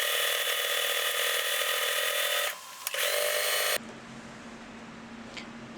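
Sewing machine stitching along a fabric bag seam, a fast, even mechanical whir that runs alone for a few seconds, breaks briefly, then stops abruptly into quieter room noise.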